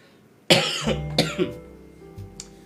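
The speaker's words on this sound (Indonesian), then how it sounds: "Gak enak juga ya batuk begini ya" A person coughs sharply twice up close, each cough trailing off into a rough throaty rasp, with faint background hum.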